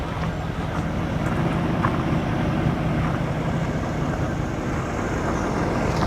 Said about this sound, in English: Pretty loud engine when you open up the hood.